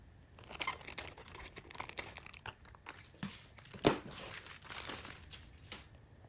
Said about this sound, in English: you're going to see that I'm going to fold the tinfoil on this line